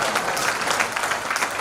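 Audience applause at a Hindi comedy poetry gathering (hasya kavi sammelan), a steady broad wash of many hands clapping continuously with no break, filling the hall loudly and evenly.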